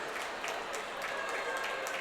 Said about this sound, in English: Lots of cheering from the crowd.